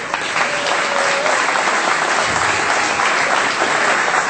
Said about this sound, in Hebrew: מחיאות כפיים, מגיע לו